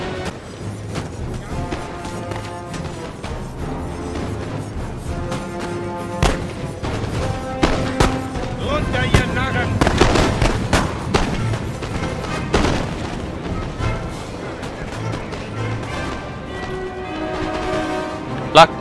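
Musket volleys from Fusiliers and Jaegers in a Napoleon: Total War battle, with repeated booming, thudding gunfire rolling through a dense battlefield mix under music-like tonal layers, swelling toward the middle and ending in a sharp bang.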